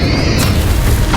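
A Confringo fire spell in Hogwarts Legacy bursts into one short, loud, booming explosion that hits suddenly and then rumbles briefly.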